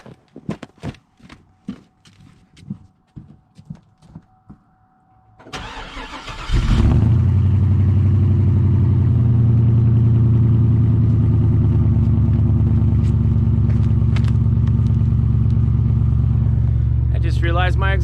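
A 2003 Chevy Silverado 1500HD with a weak battery and rotted-off exhaust tips: a few metallic clicks and knocks, a brief cranking, then the engine catches on a cold start and settles into a loud, steady, rumbling idle close by.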